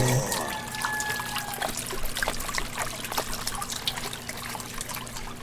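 Liquid trickles and pours onto a character in the Yakuza 0 video game, a steady watery splashing with dribbling texture continuing throughout, fairly close, mixed with faint game background sound.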